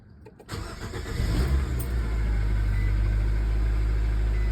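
After a starter repair, a car engine cranks briefly, catches, and settles into a steady, rumbling idle close by.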